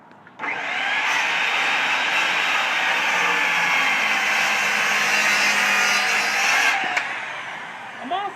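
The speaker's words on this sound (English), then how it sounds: "I'm going to cut that off now." Power saw cutting off the bottom of a wooden stair stringer, a loud, steady, close cutting whine lasting about six seconds before stopping abruptly, with a voice briefly at the end.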